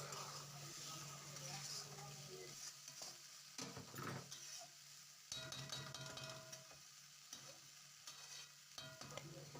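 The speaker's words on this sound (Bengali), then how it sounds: "এরপরে আমরা মাংসগুলোকে মশলার মধ্যে দিয়ে দেবো, দিয়ে ভালো করে কষিয়ে নেবো" Meat stir-fried in a spiced masala, with continuous sizzling and frying broken up by scraping stirs of a spoon in the pan, close and fairly quiet.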